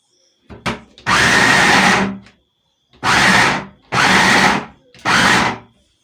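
A yam pounder machine pounds yam into a lumpy dough in loud, close bursts of grinding whir, four runs separated by short pauses, with brief clicks before the first.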